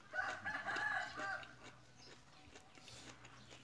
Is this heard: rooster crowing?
yes